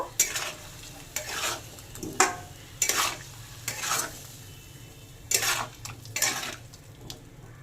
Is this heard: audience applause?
no